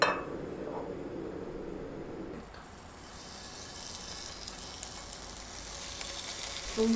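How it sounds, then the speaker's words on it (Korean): Bacon-wrapped toast coated in egg fries in a lightly oiled pan, giving a moderate sizzle for the first two seconds that then drops to a faint crackle, with a light clink near the end. "그 다음에 프라이팬에 기름을 살짝 두르고 앞뒤로 옆까지 해서 잘 익혀주세요"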